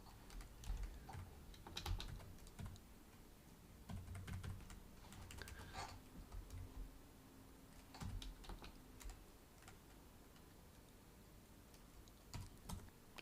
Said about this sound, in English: This keyboard it's a wireless keyboard.